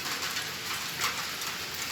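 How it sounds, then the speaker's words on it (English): Heavy downpour in an urban backyard area beside a building, a steady dense hiss of rain falling evenly and fairly loud throughout, with no voices. "It's raining, guys, crazy one like in Africa."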